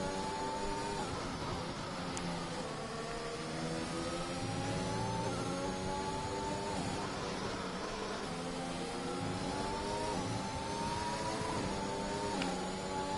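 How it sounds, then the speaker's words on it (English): A Mercedes race car in a racing video game holds a high, sustained over-rev, its engine whine rising and falling in steady harmonic sweeps for the whole stretch, loud and close with no talk. "revving that Mercedes very, very high indeed"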